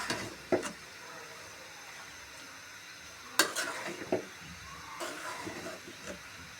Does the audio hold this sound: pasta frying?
yes